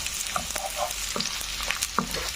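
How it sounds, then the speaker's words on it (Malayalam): Green chilies and garlic fry in hot oil for a Kerala sardine pickle, a loud continuous sizzle broken by sharp pops and crackles, with a utensil stirring now and then. "മൂക്കണം. ഇതൊന്ന് മൂക്കട്ടെ."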